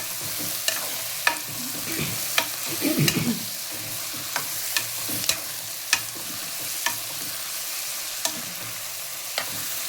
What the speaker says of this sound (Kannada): ಕಟ್ ಮಾಡಿದಂಥ ಮೆಣಸಿನಕಾಯನ್ನೆಲ್ಲ ಹಾಕಿ ಮತ್ತೆ ಫ್ರೈ ಮಾಡಿ